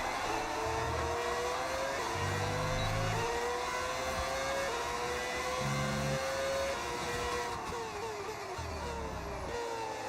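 A race car engine in the F1 26 video game holds a loud, continuous high-pitched whine, with repeated gear-change steps rising in pitch across the stretch.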